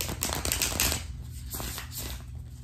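Tarot cards being shuffled and drawn by hand: a dense, rapid riffle of papery flicks, loud and close, easing into softer scattered card sounds, with no talk.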